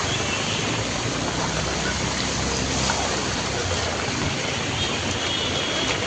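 Heavy monsoon rain pours steadily in a Marathi town street as water runs and pools on the road, a dense continuous wash of hiss and splashing without a break.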